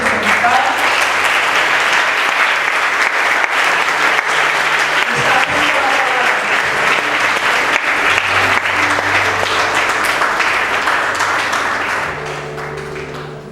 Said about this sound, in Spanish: Entonces yo voy a pedir que la recibamos con un aplauso